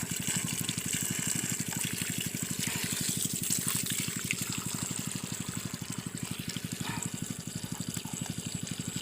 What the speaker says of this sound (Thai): ต้องกรอกน้ำแบบนี้ครับ